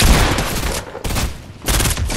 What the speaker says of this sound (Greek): Ακούω πυροβολισμούς, παιδιά